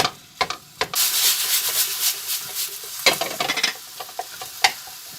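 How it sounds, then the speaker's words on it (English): Ground beef mince browns in a pan for chili, a steady close sizzle broken by scraping stir strokes, with a short quiet spell and then renewed stirring and a few sharp clicks. "So we'll let this cook through and we'll break it up as we go."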